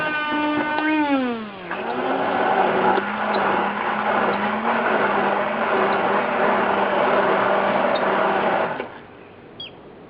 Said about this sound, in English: you're going to want to blend them with either an immersion blender or with a blender